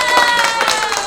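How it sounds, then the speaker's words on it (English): Audience members clap their hands together at a business talk on attracting high-end clients, a dense, steady burst of clapping lasting about a second with no gaps. "Give me a hand clap if you think that's fair"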